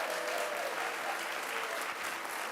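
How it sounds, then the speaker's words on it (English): Applause from an event audience, a brief, continuous burst of many people clapping at a steady, moderate level with no pauses. "Can we give them a huge round of applause?"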